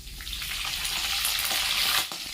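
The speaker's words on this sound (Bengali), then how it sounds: "রসুন ও আদা কুচিটা দিয়ে দিলাম। ভালো করে মশলাগুলোকে ভাজবো।" Garlic, ginger and green chilli frying in hot oil, a steady close sizzle with faint stirring scrapes running throughout, no voices.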